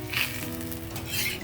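Bobbatlu flatbread sizzling on a hot pan after a drop of ghee is added, a soft, steady fry hiss with gentle crackle, faint and close, no voices.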